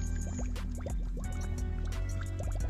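Water bubbling and gurgling steadily in a low pipe hole at a rural home in Portland, Jamaica, close and continuous with irregular glugs and drips.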